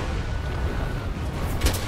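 Gunfire in Monster Hunter World during a fight against the Diablos, heard as a low booming shot with rumbling, continuous game background noise.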